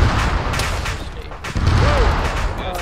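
Video-game gunfire in a combat scene with tanks, heavy bursts of shots and booms rumbling continuously throughout, loud and near, with a brief dip midway before the firing resumes.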